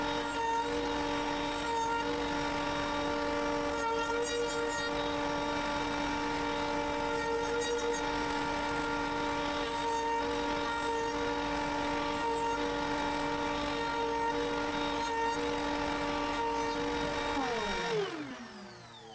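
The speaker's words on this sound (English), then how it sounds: "The holders for the fighting butts also have sharp edges, so I mill these off with the same router that I use for the head plate" A router mills sharp edges off homemade fly rod holders for fighting butts with a loud, steady, high motor whine and cutting noise over nearly twenty seconds, then winds down at the end.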